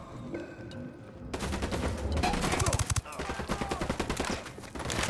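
Gunfire from Ghost Recon: Wildlands, starting as a quieter background bed and then erupting into dense, rapid automatic bursts with sharp cracks that stay loud, broken by a brief lull near the end.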